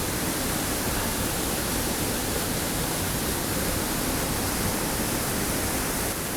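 Underwater near a small creek waterfall, a dense, steady rushing hiss of churning water with no breaks, loud and close throughout.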